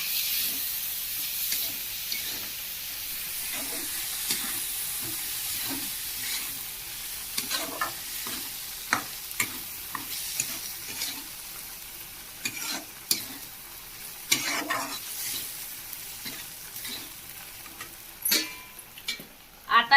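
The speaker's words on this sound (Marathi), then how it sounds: "ही मटकीची डाळ मी टाकली आता ही हलवून घेतो" Moth bean dal stirred in a hot frying pan, a steady sizzle and hiss broken by repeated scraping clicks of the spoon, close up and with no talk.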